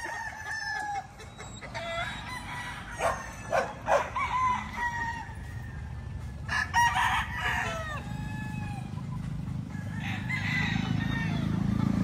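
Several gamefowl roosters of White General and Butcher bloodline crow repeatedly at close to middle distance, their calls overlapping with clucking against a steady outdoor background.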